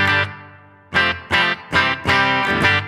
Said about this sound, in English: This is the reverb just from the amp.